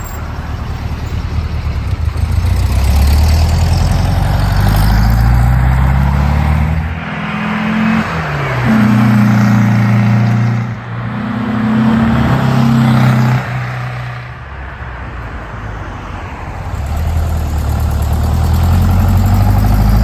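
A Porsche 356 with a 75 horsepower engine in the Need for Speed Porsche Unleashed game, a loud, steady engine drone with rising and falling revs, two distinct acceleration sweeps in the middle, then settling back to a constant roar.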